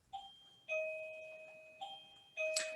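An office entry bell chimes as someone comes into the building, giving four clear ding-dong tones in quick succession, each ringing briefly and decaying, fairly near and with no talking.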